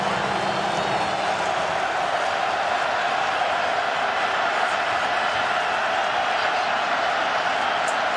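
A packed college football stadium crowd at Miami vs. North Carolina in 2015 roars on a third-and-three play, a dense and steady wash of noise that holds at an even level throughout with no clear breaks.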